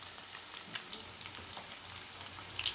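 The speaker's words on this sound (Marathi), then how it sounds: "कांदे टाकून घेते. कांदा पण छान भाजून घेते लाल कलरपर्यंत." Onions fry in a pan on their way to reddish brown for a chana dal bharda, giving a faint, even sizzle with light crackles and a soft scrape near the end.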